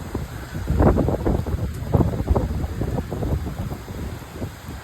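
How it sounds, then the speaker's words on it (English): Strong wind from Hurricane Milton in central Florida blows hard against the microphone, a continuous rough roar with gusty surges throughout and no speech. "Yep, it's windy as heck outside."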